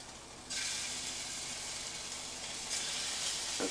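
Food sears in a very hot, oiled pan. A loud, steady sizzle starts abruptly and keeps going close up, with a brief surge near the end and no voices.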